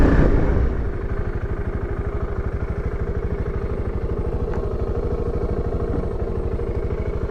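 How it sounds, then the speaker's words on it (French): A single-cylinder Voge 650 DSX adventure motorcycle pulls away low in the revs, its big lone cylinder giving a steady, close, loud thumping pulse after a brief louder start. "On reconnaît le mono à sa façon de redémarrer bas dans les tours."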